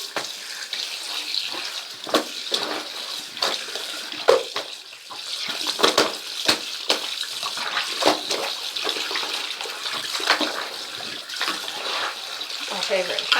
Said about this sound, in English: I'm just going to pull the plug and rinse it with cold water